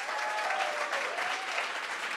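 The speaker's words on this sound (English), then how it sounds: "warm applause to these next poets" Audience applause for poets at a state poetry recitation finals at the Loft, a steady wash of clapping from a room of people, moderately loud and continuous throughout.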